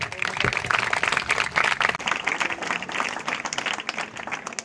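An audience applauds at a block-level Surabhi cultural programme for schoolchildren, with dense, steady clapping from a crowd lasting several seconds.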